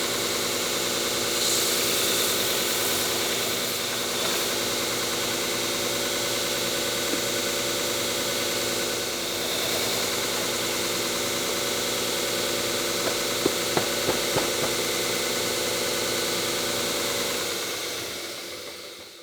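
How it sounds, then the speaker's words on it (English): Platen sander grinding material off a turned wooden bowl, a steady loud machine whir running almost unbroken, with a few brief sharper contact bursts near the end before it winds down. "let me bring you over to the platen sander and let's start doing that"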